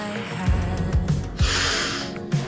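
A person breathing out forcefully during a yoga arm-and-breathing exercise, with several short, close exhales in a steady rhythm.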